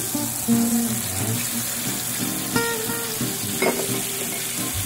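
Squid and onions frying in a pan, with a steady sizzle and a few louder scrapes as the pieces are stirred. The sound is close and comes without any talking.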